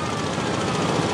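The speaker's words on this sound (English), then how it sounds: "Richie, got that siren on that thing?" A siren mounted on a Gravely economy tractor at a fair stone boat pull wails steadily and loudly for the whole moment, with engine noise and crowd ambience beneath it.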